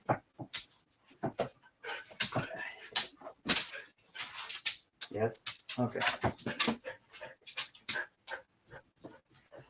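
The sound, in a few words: dog whimpering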